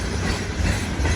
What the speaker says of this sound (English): This is obviously a freight train.